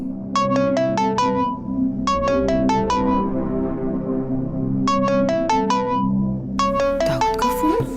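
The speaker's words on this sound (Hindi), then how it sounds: "सुबह किसका फोन आ गया?" A phone ringtone plays a repeated bright chiming pattern in short bursts, four rounds separated by brief pauses, loud and close over a low background hum.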